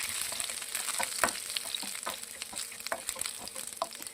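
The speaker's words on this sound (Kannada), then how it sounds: "ಇದನ್ನು ಈಗ ನಾನು ಸ್ವಲ್ಪ ಮಿಕ್ಸ್ ಮಾಡ್ಕೊಳ್ತಿದ್ದೀನಿ" Mustard seeds, garlic, curry leaves and ginger fry in hot oil with a bright, crackling sizzle and small pops, while a spoon stirs them with soft scrapes close by; no one speaks.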